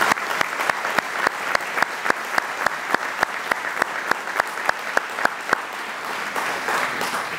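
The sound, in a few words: applause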